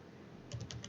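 Light, quick keystrokes on a computer keyboard, a short run of soft taps over a faint room hiss while writing text into an HTML table.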